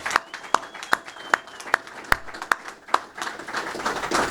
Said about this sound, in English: So please give our legislators a round of applause.